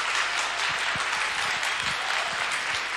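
A concert audience gives steady, dense applause after a performance, with even clapping that holds at one level throughout.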